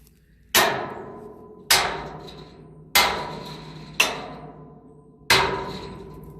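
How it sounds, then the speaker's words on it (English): A sledgehammer drives steel firewood-splitting wedges into wood on a flatbed trailer rebuild. Five loud, sharp metallic strikes land about a second apart, each ringing out and fading before the next blow. "So you just sledgehammer that in there."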